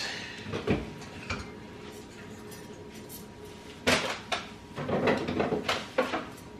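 Someone rummages through a kitchen, opening and shutting drawers: a few scattered clunks early on, then a busier run of knocks, slides and rattles, all fairly close and with no talking.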